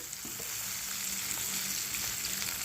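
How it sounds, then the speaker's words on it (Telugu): Oil sizzles in a hot pan while green chilli chutney is cooked, a steady close frying hiss with a few faint stirring scrapes and no talk. "కొంచెం నూనె పడుతుందని నేను నూనె వేస్తున్నానండి."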